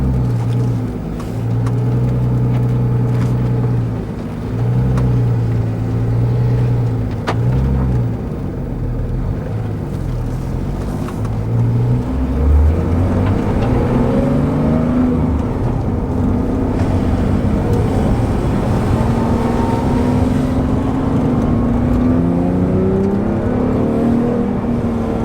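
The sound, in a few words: Porsche 911 R engine and exhaust revving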